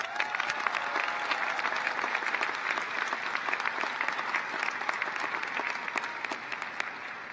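Graduation audience at a college of education ceremony applauding, dense, steady clapping from many hands heard from within the crowd, moderately loud and even throughout.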